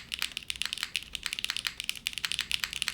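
Fast, steady typing on an Arc60 mechanical keyboard fitted with HMX Macchiato switches, a close, dense run of crisp keystrokes with no pauses and no voices.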